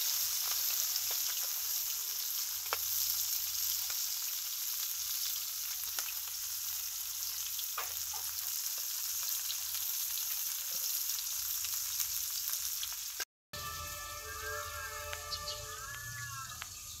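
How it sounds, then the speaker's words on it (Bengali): Tengra fish frying crisp in a wok, a continuous hissing sizzle with scattered pops and clinks, then a brief cutout followed by quieter sizzling with some chirpy tonal sounds in the background. "মাছগুলো কড়া করে ভেজে নিচ্ছি।"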